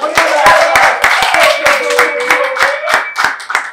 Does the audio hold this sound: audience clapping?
yes